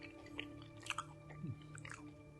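Close, quiet chewing and biting of a buttery, oniony savory pancake flatbread, crispy outside and chewy inside, with a few soft crunches.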